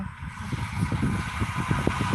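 Truck traffic on eastbound I-70 near the 303 exit sounds as a steady low engine rumble with a swelling, rolling drone that grows slightly louder, heard alone without voices.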